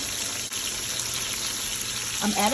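Chicken pieces frying in a pan with butter and potatoes, garlic and onions going in, producing a continuous close sizzle that briefly dips, then a short clatter near the end.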